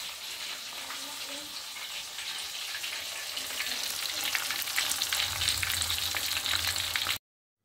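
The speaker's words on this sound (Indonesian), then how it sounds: "goreng ini bawalnya, kita goreng tepung." Pomfret fish frying in flour batter in hot oil, giving a dense, continuous crackling sizzle that grows slightly louder and fuller toward the end before cutting off abruptly.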